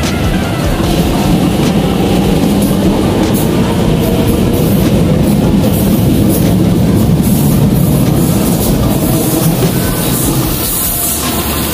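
Hong Kong KCR train running, a loud steady rumble with continuous wheel clatter heard from on board, close and unbroken throughout, with no speech.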